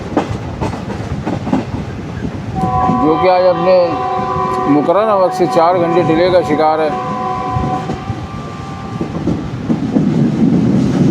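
The 11 Up Hazara Express, a Pakistani passenger train between Karachi and Havelian, rumbles past in rain with a loud, wavering horn blast in the middle, steady rail noise throughout, while someone talks over it.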